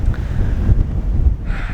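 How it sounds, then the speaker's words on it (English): Wind gusting across a hillside at sunset, a low rushing buffet against the microphone that surges and eases over a brief moment. "I'm actually getting pretty cold because it's pretty windy."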